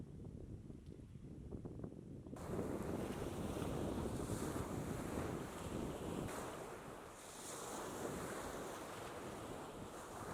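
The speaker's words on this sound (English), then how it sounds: "It's nice and breezy" Strong wind buffets the microphone on a beach in Kakadu National Park at the end of a hot day, a loud, continuous roar mixed with the rush of surf, with no one speaking.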